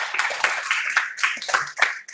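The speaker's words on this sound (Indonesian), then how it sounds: "Berikan tepuk tangan untuk saya." A small church congregation claps unevenly in short bursts, the claps close and crisp, with no talking over them.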